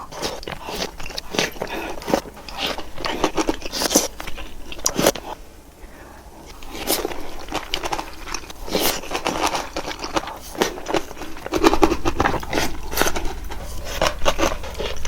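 Someone eating pork gukbap, a Busan-style pork and rice soup with plenty of meat, served with rice and kimchi; close, steady chewing, slurping and utensil clatter run throughout with no talking.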